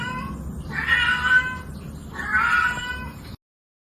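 A cat meows twice, two loud, close, drawn-out cries separated by a short pause, with no other sound around them.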